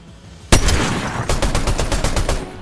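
A loud, sharp sniper rifle shot rings out in Fortnite, followed after a pause by a rapid, evenly spaced string of further shots.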